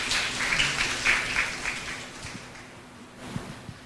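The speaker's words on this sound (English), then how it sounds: "So please give them a round of applause to these groups." A room of attendees at a TechLadies bootcamp info session gives a round of applause, a dense patter that swells early then thins out and fades to a few scattered claps.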